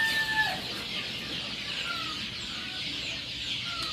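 Native free-range chickens on a poultry farm cluck steadily and close by, with a few brief higher calls standing out over a constant outdoor background.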